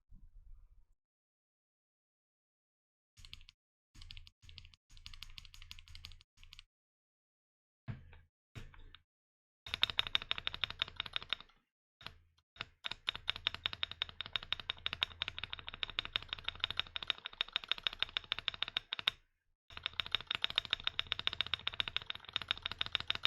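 Typing on a Monka 6075 Pro mechanical keyboard with stock stabilizers, close and clear: short bursts of clacking at first, then long fast runs of keystrokes, with no voice.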